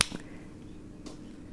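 A single sharp finger snap at the very start, followed by a faint second click, in a quiet room.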